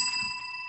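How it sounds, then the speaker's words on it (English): A single bell strike used as a comedic "however" cue on a talk show, ringing clear and bright with a long, steady metallic decay and no voices over it. "The however bell, going all over the world."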